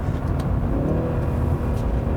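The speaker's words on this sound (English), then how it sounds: "it's a nice, meaty, deep growl" BMW 3-Series sedan in sport mode with amplified engine noise, producing a steady, deep, meaty growl up close, continuous and loud throughout with no talking.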